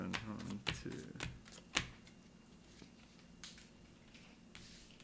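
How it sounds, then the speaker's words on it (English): A deck of turn-order cards from the board game Aeon's End is shuffled close by, several quick riffling bursts in the first two seconds, then softer card handling as the sound fades. "now that the turn order deck has been depleted, shuffle it"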